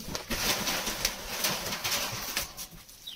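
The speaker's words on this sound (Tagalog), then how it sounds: "Ah, talagang bird. Small bird" A small bird being fed outdoors gives soft coos and faint chirps amid a busy background of shuffling and street noise, the calls brief and intermittent.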